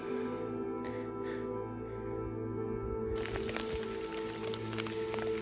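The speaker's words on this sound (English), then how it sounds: "it has opened up again. It's actually hailing even a little bit" Rain with a little hail falling on a hiker on the Colorado Trail, a steady patter that grows sharper and denser partway through over a constant low hum.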